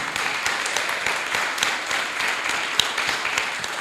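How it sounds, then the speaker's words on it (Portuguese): A church congregation applauds, many hands clapping in a loud, continuous, dense round of applause that fills the room. "vamos dar uma salva de palmas no nome do Senhor Jesus"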